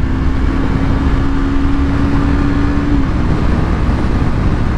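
A 2019 Yamaha R3 motorcycle engine drones loudly and close, holding a steady pitch before the tone drops off partway through, with constant wind and road roar.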